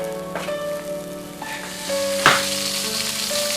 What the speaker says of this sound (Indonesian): Goreng ayamnya jangan kelamaan, ntar gosong.